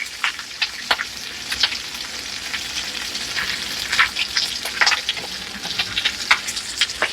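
Bacon fries in a pan toward crispness, a loud, constant sizzle crackling with dense popping spatters throughout, no voices.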